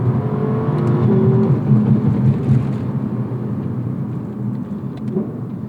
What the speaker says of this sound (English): after that it will hold the gear as you hit red line, and it'll bounce it off